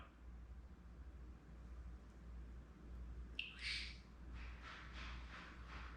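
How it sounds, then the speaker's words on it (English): African grey parrot giving a short sharp squawk followed by a few softer calls, faint over a steady low background hum. "I got to talk to this bird."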